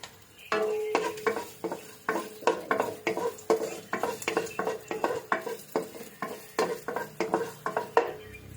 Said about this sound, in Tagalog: Una natin isangkot sa itong luya